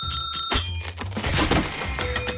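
Bell-like musical theme played by beads in braids in the cartoon Stoked, a few bright ringing tones with a brief melodic run, close and clear with no talk.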